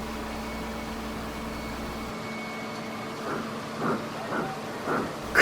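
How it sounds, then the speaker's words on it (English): A steam engine slowly pulling a train sets off a steady low hiss, then a few distinct rhythmic chuffs that grow stronger as it starts to move. "With smoke and steam pouring from his funnel, the train slowly moved after him."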